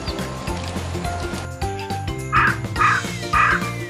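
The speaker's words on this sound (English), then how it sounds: "Jungle crow." A jungle crow gives three loud, harsh caws spaced about half a second apart, over background music.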